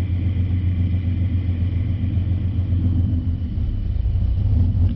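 A V6 Ford Mustang idles with an idle chop modification: a steady, loud, low engine rumble with an even drone from start to finish, close to the car and without any voices.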